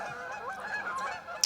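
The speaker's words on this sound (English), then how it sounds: "here come the geese" A flock of geese honks as it flies past on an October evening, overlapping calls drifting at moderate distance, fairly faint, with no talking.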